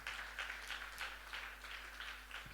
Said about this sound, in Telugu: చప్పట్లు కొట్టి దేవుని మహింపరుస్తా.